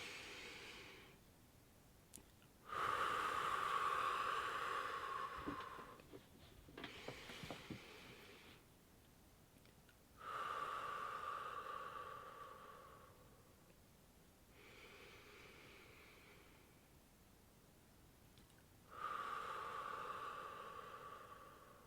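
Slow, deep breathing during a relaxation exercise: three long, airy breaths spaced evenly apart, close and soft against a quiet background, with no talking.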